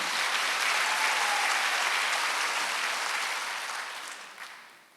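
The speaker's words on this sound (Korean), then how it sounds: "박수 한번 주세요." A church congregation at a Wednesday worship service applauds, a dense steady clapping that holds for about four seconds and then fades away without any talk over it.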